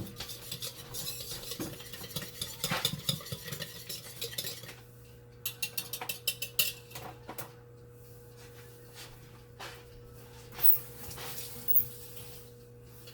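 A spoon stirs melted butter into cupcake wet ingredients in a bowl, giving irregular clinks and scrapes that come in bursts, fairly quiet against a low steady hum.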